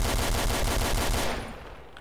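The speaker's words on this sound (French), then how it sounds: "vous pouvez voir, les bruits d'armes sont modifiés. Passons aussi aux Dual Elite." Modded Dual Elite pistols in Counter-Strike: Source fire in a rapid, evenly spaced burst of loud sharp shots, about a dozen in quick succession, before cutting off and fading.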